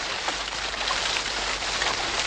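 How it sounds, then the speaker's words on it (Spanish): Heavy rainstorm pouring down at night, a dense, steady hiss of thick rain on surfaces, loud and continuous throughout with no pauses. "empezó a caer una gran tormenta de agua, una lluvia muy espesa"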